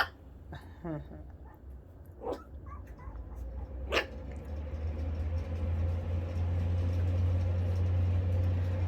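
A dog barks several times in short, separate bursts, with a steady low hum running underneath throughout.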